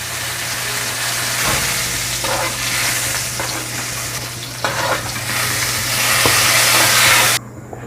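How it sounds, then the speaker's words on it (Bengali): Onions frying in a hot wok give a continuous loud sizzle, with spatula stirs and scrapes at intervals before the sound cuts off sharply near the end. "এবার আমি কড়ার মধ্যে পেঁয়াজটা দিয়ে ভালো করে ভাজবো।"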